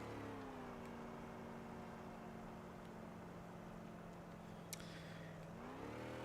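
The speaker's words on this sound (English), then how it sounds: "the engine sound that we can now hear, which is basically like the only sound we can hear, it's completely without any sort of reverb or anything" A vehicle engine in a video game hums steadily with a dry, reverb-free tone, holding one sustained drone before rising in pitch near the end, alone with no voices.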